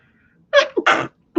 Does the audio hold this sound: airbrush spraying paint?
no